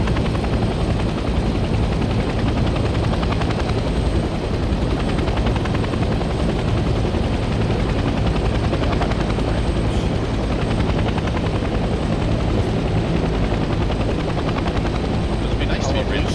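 A helicopter hovers to land in HLL Vietnam, its rotor thudding loudly and continuously as a dense, unbroken drone throughout.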